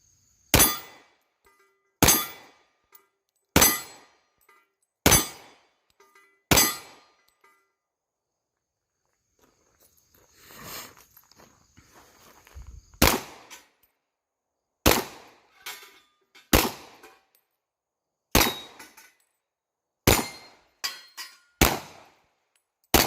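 Pistol shots from an FN FNS-40 long slide fired at an outdoor range, a series of sharp, loud single reports spaced about a second or two apart, with a short pause and faint clinking in the middle.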